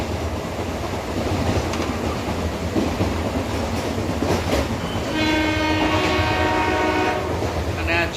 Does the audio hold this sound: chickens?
no